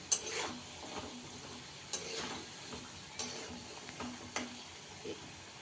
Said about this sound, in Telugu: బ్రౌన్ కలర్ వచ్చే వరకు ఫ్రై అవ్వాలి